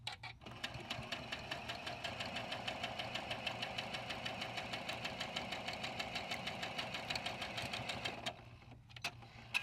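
Steady, fast mechanical whirring and rhythmic stitching of a sewing machine piecing a quilt seam for a block-of-the-month quilt, running continuously and close before stopping near the end.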